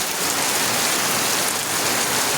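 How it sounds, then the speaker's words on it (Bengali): Heavy rain pours steadily in Gobindapur village, Feni district, Bangladesh, a dense continuous roar of drops striking surfaces with no voices. "প্রচুর বৃষ্টি হইতেছে আজকে বৃষ্টির পরিস্থিতি দেখাইতেছি"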